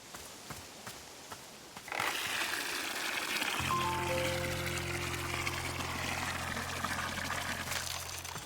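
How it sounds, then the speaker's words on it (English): Water pours and trickles steadily while a container is filled in Wanderstop, a soft ambience jumping to a continuous gush partway through, joined by a low sustained tone. "I gotta fill up my water"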